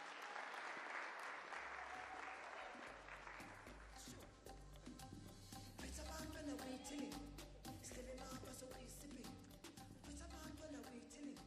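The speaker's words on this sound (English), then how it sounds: "Give a round of applause." An audience applauds at a celebration and launch event, dense sustained clapping that runs through the whole stretch, with low thumping music or stage sound joining partway through.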